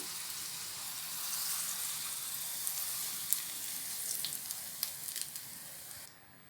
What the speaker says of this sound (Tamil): இந்த தாளிப்பை தயிர் சாதத்தில் நம்ம போட்டுடலாம்